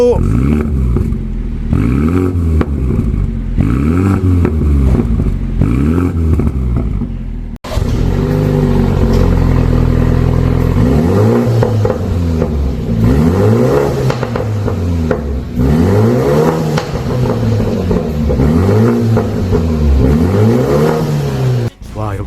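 A BMW Z4 20i's modified exhaust revved repeatedly in rising and falling sweeps, deep and loud, with occasional pops and a brief cut partway through before the revving resumes.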